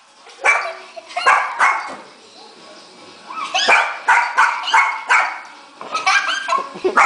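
Several dogs bark and yap aggressively in repeated bursts, close and loud, with a few whimpering yips between volleys; a person talks over parts of the commotion.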